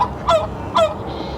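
Hagrid the rooster, kept penned indoors with hens and ducks, lets out two short, loud, honking calls about half a second apart, close by, with no talking.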